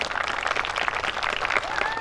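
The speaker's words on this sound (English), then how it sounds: "Let's give a big round of applause to Senator Fong Her." A round of applause from the crowd at a Hmong and Lao veterans' day event honouring a state senator, brief steady clapping at moderate distance.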